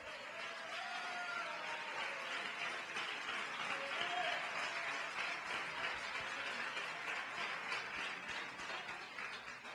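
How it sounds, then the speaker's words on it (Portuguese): A church congregation claps together in a steady, fairly even wash of applause that continues for the whole stretch, moderately loud and without speech on top. "Dê uma salva de palmas ao Senhor."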